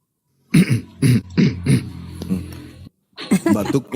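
A series of four or five sharp coughs in quick succession, fairly close, followed by a short pause and then more muffled vocal sounds.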